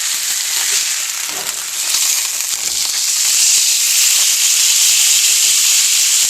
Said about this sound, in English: It takes about 2 minutes to get a sear on each side of this steak.